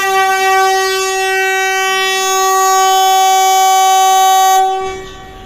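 Vande Bharat Express train 20901 pulling out of a station near Surat, its horn blaring a loud, sustained harmonic tone for about four and a half seconds before cutting off sharply.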